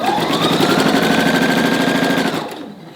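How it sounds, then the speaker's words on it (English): A sewing machine runs steadily stitching the side seam of a fabric sleeve for a puffy-sleeved cottage core dress, a close, loud continuous mechanical whir that slows and fades near the end. "I'm going to sew along the side of the sleeve"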